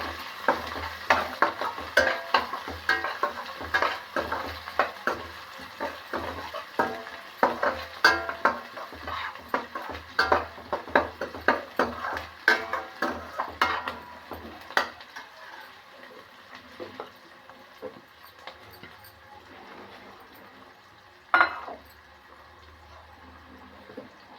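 Green chillies and chopped onion sizzle in hot oil in a pan while a metal spoon scrapes and clinks in quick, steady stirring strokes, then the frying settles into a softer, steady hiss with an occasional clatter.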